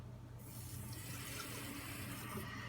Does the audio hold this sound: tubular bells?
no